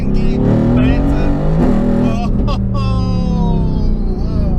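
A 2018 Mercedes AMG GT R pulling hard in second gear on the road, its loud engine climbing in pitch with a brief shift-like break, close and full, with a voice talking over it.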